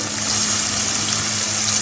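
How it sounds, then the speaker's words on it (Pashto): A dish of Peshawari lobia: water poured into frying tomato masala in a pot hisses and bubbles loudly, a steady close sizzle with a faint low hum beneath, no talking. "اوس په دې کې لږې اوبه واچو"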